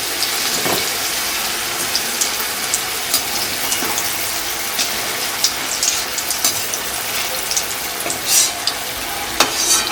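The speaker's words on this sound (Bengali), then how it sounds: "এখানটা ফ্রাই হচ্ছে আর দেখে তো বোঝাই যাচ্ছে তেলটা প্রচণ্ড গরম হয়ে গেছে" Malpua batter fries in very hot oil, giving a loud, dense crackling sizzle with scattered pops and occasional stirring clicks, and no talking.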